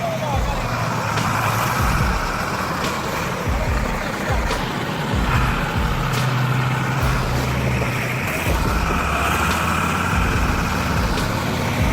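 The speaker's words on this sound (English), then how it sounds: "143 6X 4V8 timber truck roars like a hungry grizzly bear" An old 6x4 V8 timber truck engine roars continuously at close range, a loud heavy diesel rumble that stays steady throughout, with voices partly audible over it.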